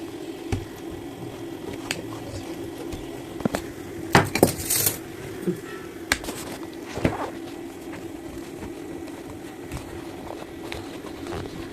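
A knife slices firm homemade Mysore pak into thin pieces, producing scattered close taps and knocks against a plate or board, with a sharper cluster of clicks midway over a low steady background hum.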